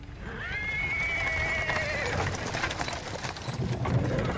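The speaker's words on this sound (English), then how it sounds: "He is interrupted by the sound of wheels rolling on the paving stones." A horse whinnies loudly and hooves clip-clop on paving stones as a horse-drawn cart approaches in the fantasy role-playing game Pathfinder: Wrath of the Righteous, with rumbling wheels underneath.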